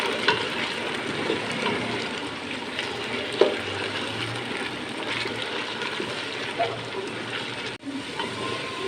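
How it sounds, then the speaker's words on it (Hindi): Arbi (taro root) frying uncovered in oil on high heat, a steady close sizzle and crackle running throughout with a few small clinks of a utensil and no one speaking. "आंच को हम तेज़ रखेंगे नाज़रीन और इसको फ्राई करेंगे गोल्डन फ्राई हो जाए।"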